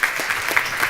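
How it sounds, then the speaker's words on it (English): Audience at a UNWTO event clapping steadily, a dense even patter of many hands sustained through the short moment with no voices over it. "A round of applause, please."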